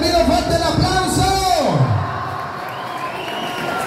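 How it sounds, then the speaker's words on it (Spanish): Party guests at a quinceañera cheer, whoop and clap loudly, a crowded burst of voices and applause that eases to a lower hubbub after a couple of seconds. "¡Para que pido fuerte el aplauso!"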